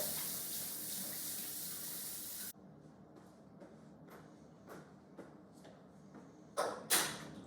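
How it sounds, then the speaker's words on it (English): Kitchen tap running as hands are washed, a steady loud rush of water that cuts off abruptly, followed by quieter splashes, drips and handling sounds. "Step 1, as always, is going to be washing your hands."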